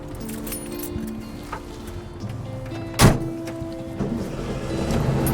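A classic car starts up with a sharp clunk of the ignition, then a low engine rumble builds and settles into a steady idle, with faint clinks and mechanical whirring before it.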